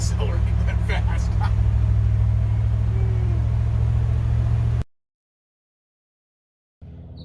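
A truck accelerates along a road with a loud, steady low engine rumble and drone for about five seconds, then cuts to silence before faint sound returns.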